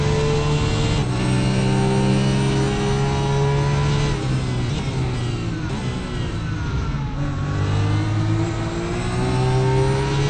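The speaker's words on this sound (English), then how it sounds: "Let's get some engine sounds there, so close to the back of Boucher there." A racing car engine roars steadily in the RaceRoom sim racing game during the Bathurst 2-hour event, holding a loud, buzzing high-rev drone with shifting pitch as the car runs close behind another.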